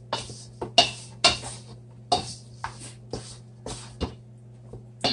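Metal spoon scraping and scooping about a quarter cup of flour over oxtail pieces in a bowl, heard as a string of sharp, close clinks and scrapes at an irregular pace over a low steady hum.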